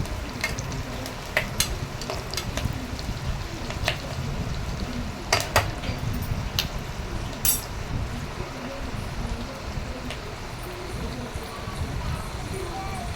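Pigeon pea seeds fry with onions in a pan, giving a steady close sizzle under soft scraping and stirring, with sharp clinks of the utensil against the pan scattered throughout.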